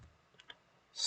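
A few soft keystrokes on a computer keyboard while a command is typed into a Node.js interactive terminal: two faint, quick clicks, a pause, then a brief louder burst of keys at the end, with no voices.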